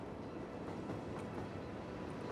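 A train in the Cities Skylines Snowfall game rumbles past in a steady, moderately loud rolling drone with faint rail clatter, heard alone.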